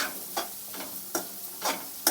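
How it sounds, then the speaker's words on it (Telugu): A garam masala mixture is stirred in a pan with a spoon. It gives rhythmic scraping strokes about every half second over a faint sizzle, close and moderately loud. "మొత్తం కలిసేటట్టు ఇలా కలుపుకోండి."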